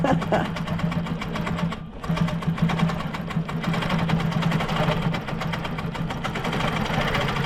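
A sewing machine stitches steadily while quilting a wildlife-themed quilt with a cup foot, giving a continuous close mechanical whir with a rapid needle rhythm and a brief dip partway through.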